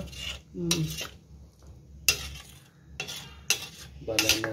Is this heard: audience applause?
no